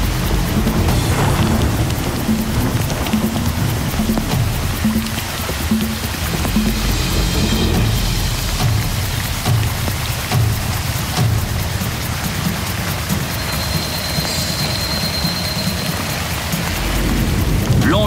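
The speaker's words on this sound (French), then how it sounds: "Le vent et la pluie fouettent violemment les visages des naufragés." Heavy tropical rain driven by wind pours down steadily and loudly, with low rolling thunder rumbling through the downpour; no voices.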